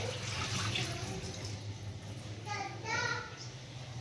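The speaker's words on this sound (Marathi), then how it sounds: "वरलं पाणी काढून घेते." Water is poured and drained off soaked semolina for idli batter in a home kitchen, a faint splashing trickle with brief louder gushes, under quiet voices and a child's chatter.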